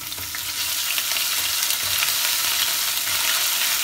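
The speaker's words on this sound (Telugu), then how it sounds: "అల్లం పచ్చివాసన పోయేదాకా ఇలా ఫ్రై చేసుకుందాం" Ginger garlic paste fries in hot oil with dried red chillies and curry leaves, giving a dense, continuous sizzle with faint stirring, close and loud with no talking.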